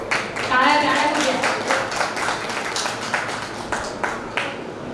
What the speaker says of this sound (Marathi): टाळ्या टाळ्या करूया